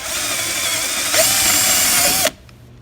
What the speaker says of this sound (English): I'm just going to demonstrate putting a hole in this piece of wood